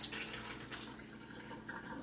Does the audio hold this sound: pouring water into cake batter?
yes